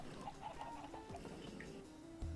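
Chickens clucking in Minecraft with the Tekkit Reloaded modpack, a few faint short clucks over a steady background hum, no talking.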